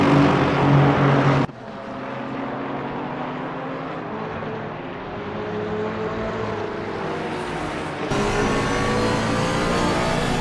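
GT3 race cars roar down the main straight at Barcelona in Assetto Corsa Competizione, a loud sustained engine drone with a shift to a different car tone midway and a brighter roar returning toward the end.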